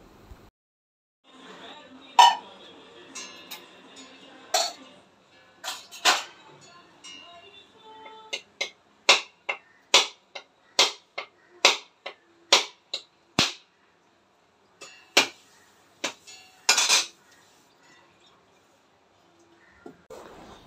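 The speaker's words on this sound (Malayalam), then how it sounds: "അതുകൊണ്ട് പാത്രങ്ങളെല്ലാം ഒന്ന് കഴുകിയെടുക്കട്ടെ." Pots and dishes being washed in a home kitchen while rice cooks, giving a run of sharp metallic clinks and clanks at an uneven rhythm, close and fairly loud, with no talk over them.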